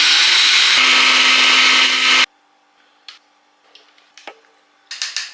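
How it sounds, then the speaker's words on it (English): A loud blender whirs steadily for about two seconds, purÃ©eing blanched herbs with oil, then cuts off abruptly, leaving quiet kitchen clinks and small knocks. "put it in a blender"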